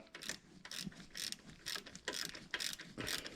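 A ratchet wrench loosens turbo bolts on a 2018-or-later Honda Accord Type R, quick bursts of close clicking repeated in a steady rhythm, faint overall.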